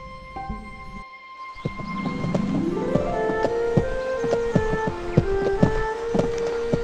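Game-world horse hooves from the Disney Princess Royal Horse Show PC game, crisp repeated clip-clops in an even trot over a bright musical backdrop with rising chimes.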